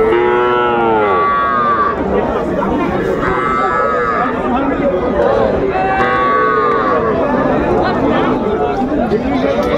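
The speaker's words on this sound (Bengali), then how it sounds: "ষাঁড় এবং বকনা বাছুর গরুগুলো বেচা কেনা হচ্ছে," Cattle, small bulls and heifer calves, moo repeatedly at a busy livestock market. Loud, close lowing rises over constant crowd chatter and people talking.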